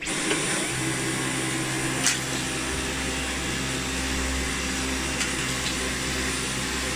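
Dyson V11 Absolute cordless vacuum cleaner with high torque head running close by, a loud steady motor whine and airflow hum holding continuously with faint bumps and rattles as it works.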